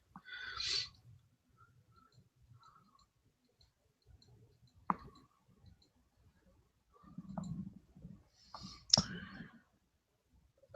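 Eight dice tossed for a difficulty-8 roll in a tabletop game: a few sharp, sparse clicks and clatters, with a louder burst of rattling near the end and quiet pauses between.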